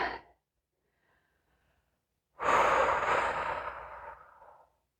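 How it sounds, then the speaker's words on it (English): During a beginner yoga flow, a long, deep, audible exhale rushes out close to the mic, following the tail of a previous breath and a short silence. "Go ahead and take you some breaths here"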